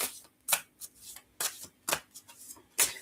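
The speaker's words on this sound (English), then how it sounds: "I'm just going to take a moment to pull card number 1." Oracle cards shuffled and pulled from the deck up close, crisp riffling bursts and soft slides coming in an uneven rhythm, fairly quiet and without speech.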